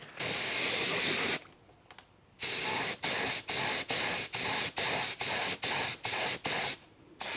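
Spray paint hisses loudly as a heavy coat goes onto a BMW E92, starting with two long sustained blasts and then breaking into a rapid series of short, evenly spaced bursts.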